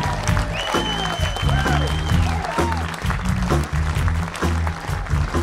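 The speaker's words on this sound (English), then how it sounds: "Let's give them a round of applause, starting with on bass." A concert crowd at the Sellersville Theater in Pennsylvania claps and cheers for the bassist, loud sustained applause with sustained guitar tones ringing over it.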